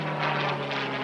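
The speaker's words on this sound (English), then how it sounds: "the evocative sight and sound of P-51D Mustang, Man o' War" P-51D Mustang "Man o' War," a 1945-built WWII fighter, flying at an airshow at Edwards AFB; a steady, loud piston-engine drone with a strong low tone holds evenly throughout the brief moment, no voices.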